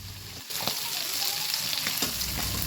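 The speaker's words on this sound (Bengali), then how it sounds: "মাছটা ভেজে তুলে নিয়ে তারপরে এই তেলের মধ্যে রান্নাটা করব।" Fish frying in hot oil in a home kitchen, a steady crackling sizzle that jumps louder as the pieces go in, close and continuous with occasional stirring and no voices.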